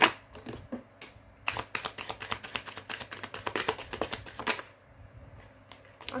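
Tarot cards are shuffled in quick bursts of rapid riffling clicks, then go quiet as dropped cards are gathered up by hand, close and soft.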